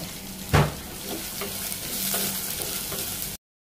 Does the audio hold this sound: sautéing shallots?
yes